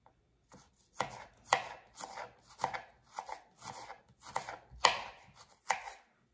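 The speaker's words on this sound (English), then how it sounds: "line the slices of the carrot vertically, and then you slice thinly" A knife slices thinly through a carrot on a cutting board in a steady series of about ten crisp chopping strokes, close and clear, with no talk.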